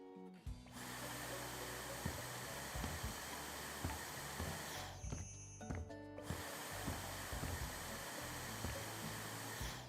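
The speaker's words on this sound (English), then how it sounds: "I swear this vacuum is making like a really high-pitched noise and it's like hurting my ear." Vacuum cleaner in the video game House Flipper 2 runs as a steady, loud, high-pitched broadband drone, briefly dipping and resuming midway, with faint clicks and bumps underneath.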